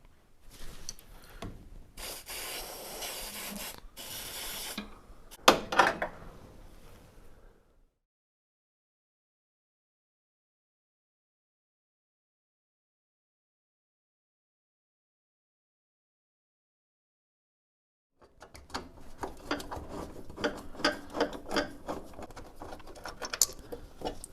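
Scraping, rubbing and patter of hands and parts being worked on while a brake booster is pulled from a 1964 Ford Falcon Futura. Close, quiet handling noises come in bursts, with a long silent stretch in the middle before the rubbing resumes.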